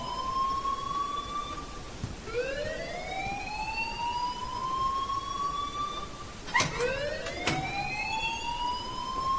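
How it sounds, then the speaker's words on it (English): An alarm in the video game Life Is Strange wails in long rising sweeps, repeating steadily over constant background noise, with a couple of sharp bursts near the end. "please turn off that alarm since that's your job"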